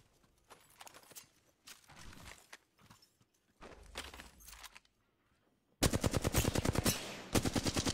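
Gunfire in a video game: a few short separated bursts, then loud rapid automatic volleys close up near the end.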